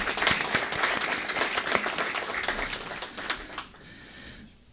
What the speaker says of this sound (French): Ça mérite de chaleureux applaudissements